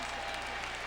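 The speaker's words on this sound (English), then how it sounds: "The applause is for Maurice Harris getting up" A boxing crowd applauds steadily as a heavyweight boxer gets back up after a knockdown, producing a brief, dense wash of clapping throughout.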